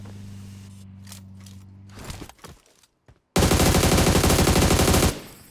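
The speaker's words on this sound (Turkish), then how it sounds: "Biri çünkü S12 ile gerçekten sıktı." An S12 shotgun fires in PUBG, with a few sharp shots followed by a loud, dense, sustained burst of gunfire lasting about two seconds.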